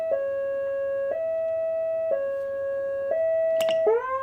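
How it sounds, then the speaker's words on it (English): A Whelen 295SSA1 electronic high-low siren alternates high and low pitches in a steady, even rhythm, clear and close, briefly cut by a sharp chirp near the end. "you got your standard high-low, or as we used to call on the job, the Mr. Whippy siren"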